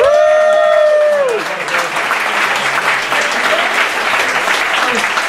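Loud, sustained audience applause for Jeff Berwick at a live event in New York City, filling the room after a brief voice at the start.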